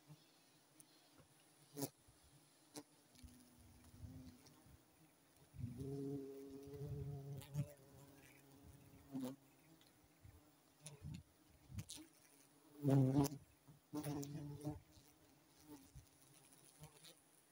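A large wild honeybee nest hums with a faint, sustained buzzing of many bees, with occasional louder passes and some scattered knocks and background noises.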